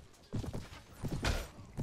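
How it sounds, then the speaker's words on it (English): Horse hooves clop in a few quick, close thuds in the Mount & Blade video game, with a short burst like a neigh near the end. "Ooh, you're a nice horse."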